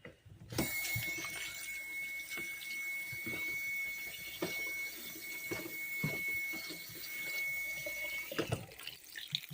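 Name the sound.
rinsing pasta under running sink water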